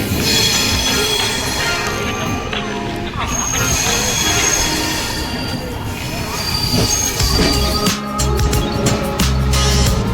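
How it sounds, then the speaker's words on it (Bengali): Passenger train running through Bardhaman station without stopping, with steady loud rumble, wheel squeal and rail clatter throughout, and voices faintly audible beneath the noise. "আমাদের ট্রেন এখন বর্ধমানে দাঁড়ালো না চলে যাচ্ছে বর্ধমান"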